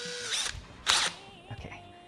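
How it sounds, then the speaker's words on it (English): A handheld power drill boring a small hole, heard as a couple of brief whirring bursts with a sharp spin-up in the middle, close and moderately loud over faint room noise. "Just gotta drill the smallest hole."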